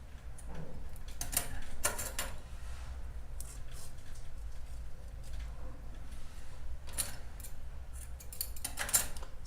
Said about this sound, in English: So I've cut off the blue strand that was left, and then also cut the white.